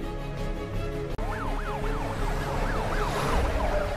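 An ambulance siren wails in repeated rising and falling sweeps while the vehicle drives fast, loud and close over a steady road and engine rumble.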